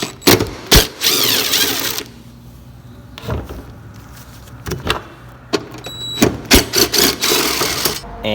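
Two 10mm taillight bolts being removed on a two-door Honda Accord coupe, heard as a series of short, close mechanical clicks and rattles of a ratchet and fasteners, with quieter pauses between bursts.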